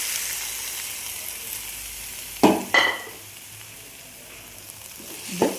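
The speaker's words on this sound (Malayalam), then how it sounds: "ഇനി നമ്മൾ ഇതിലേക്ക് നമ്മൾ എടുത്തു വെച്ചിരിക്കുന്ന തക്കാളിയും അണ്ടിപ്പരിപ്പും ഇട്ട് കൊടുക്കുന്നുണ്ട്." Tomatoes and cashews sizzling in a frying pan while cooking paneer curry, a steady soft hiss broken by a couple of sharp clattering bursts near the middle as the ingredients drop in and get stirred, with no talk.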